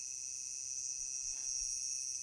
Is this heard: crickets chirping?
yes